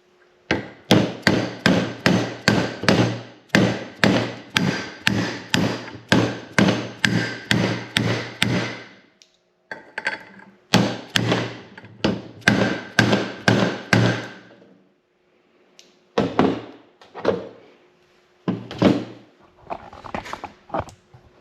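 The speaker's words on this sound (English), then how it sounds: "then we got a 30mm socket to drive it the rest of the way" Honda Big Red ATC front axle bearing driven in with a 30mm socket and hammer, a long run of sharp, evenly spaced metallic blows, then a pause and scattered slower strikes.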